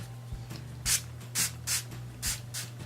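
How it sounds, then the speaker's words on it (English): Five short bursts of a matte makeup setting spray mister hiss in quick succession, close by, each a brief puff of sound. "This is Sheer Envy Matte Setting Spray."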